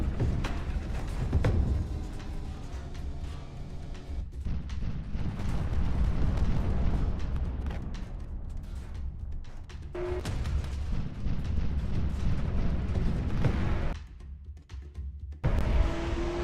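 Missiles slam into a warship during a StarCore test tournament battle, producing a dense, continuous roar of overlapping booms and rumbling blasts, with heavier bursts around the middle and a brief lull near the end.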